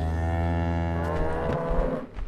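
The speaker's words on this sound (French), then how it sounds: "Ah ouais, c'est des vaches." Cows low in the horror zoo game Zoonomaly, a drawn-out, loud harmonic moo filling most of the moment and breaking off at the end, with no talk over it.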